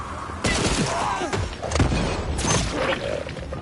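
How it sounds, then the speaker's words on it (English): Dual-wielded boomstick shotgun and pistol in Dying Light 2, firing in a loud, rapid sequence of blasts and thuds with crashing impacts, the shots coming in quick bursts close up. "Literally a dual-wielding a boomstick and a pistol."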